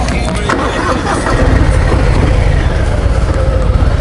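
A brand-new Harley-Davidson Softail Breakout motorcycle rumbles along on the road, its engine a loud, steady low drone mixed with rushing wind noise, close and continuous throughout.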